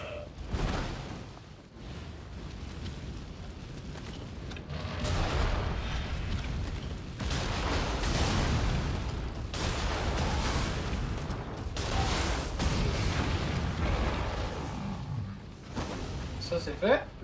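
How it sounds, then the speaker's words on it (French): Portable cannon fire in the action game Nioh 2, heavy booming blasts and bursts repeating through a dense battle mix of clashing effects, loud and close throughout. "Le canon portatif est très agréable pour éliminer les ennemis rapidement."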